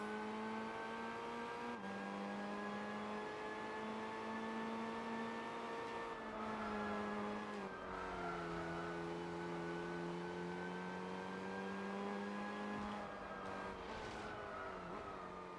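Rally car engine in Gran Turismo 4, with a steady droning hum that rises and falls in pitch through gear changes and throttle shifts, close and continuous for the whole stretch.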